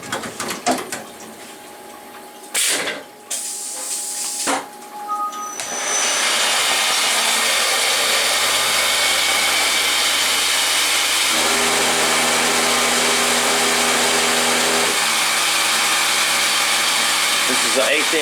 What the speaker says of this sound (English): The next tool is in the carousel, so it's going to retrieve it.